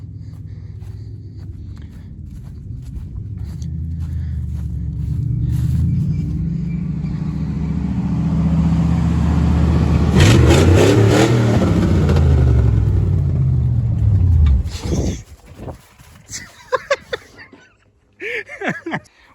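A 1967 Ford Galaxie with a worn clutch and failing brakes rumbles across a pasture, its engine droning loud and close, rising to a peak before cutting off abruptly, followed by scattered knocks and faint voices.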